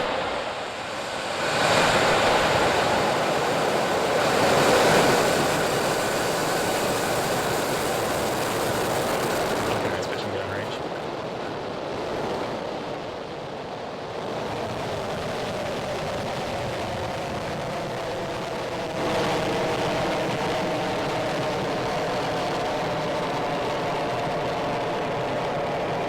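A SpaceX Falcon 9 rocket's engines ignite at launch with a broad, roaring rumble that swells, eases and then builds again into a sustained crackling roar, heard from a distance and without any talk.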